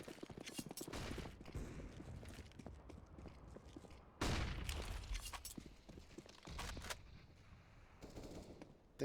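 Automatic weapons spraying in a Counter-Strike match, with rapid bursts of gunfire and footsteps in a busy, fairly quiet game mix and no clear talk.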